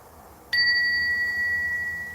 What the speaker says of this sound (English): do we want to ring any bells?